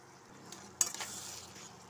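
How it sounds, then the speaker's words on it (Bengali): Masala being stirred into bottle gourd curry in a pan, a faint soft simmer broken by a sharp spatula scrape and a clink near the end, quiet and close without speech. "দিয়ে আমি নাড়িয়ে দিয়ে আরও কিছুক্ষণ হতে দেব।"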